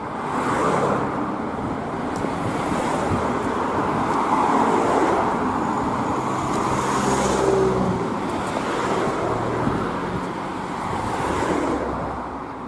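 Steady broadband traffic roar along a main road near Kamakura on the Miura Peninsula in Japan, a continuous wash of passing cars with some wind buffeting the microphone, loud and close with no talking.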